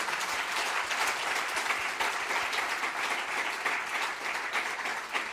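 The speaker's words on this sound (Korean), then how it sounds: "오신 모든 분들께 감사의 인사 박수로 함께 하겠습니다" A congregation at a Sunday church service applauds, a dense, steady wash of many hands clapping that fills the room for several seconds at an even level.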